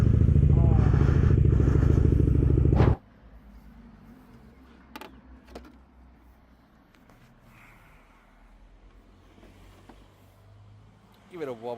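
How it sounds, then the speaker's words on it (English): A Ninja 400 motorcycle accelerates on a track, its engine a loud, buzzing whine for about three seconds before cutting off abruptly, followed by quieter clatter and a brief revving burst near the end. "This biker was accelerating his Ninja 400 motorcycle"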